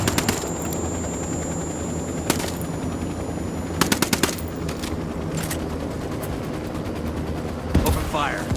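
Apache helicopter gunfire in the Ghost Recon Wildlands video game: repeated loud bursts of rapid machine-gun fire over a constant rotor and engine rumble, with short gaps between volleys and the last burst near the end.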